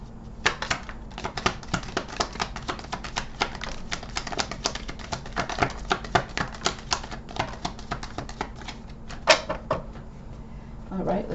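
Tarot cards being shuffled and pulled by hand, producing a close, busy stream of sharp flicks and riffling snaps at a fast irregular pace, with a few louder slaps and a soft voice now and then underneath.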